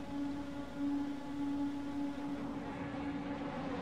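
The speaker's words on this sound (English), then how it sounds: "Engines are revving for the final time in a Starr Mazda car." A Star Mazda race car engine at Watkins Glen in an online sim racing league holds a steady, droning tone at a constant pitch throughout, with no voices.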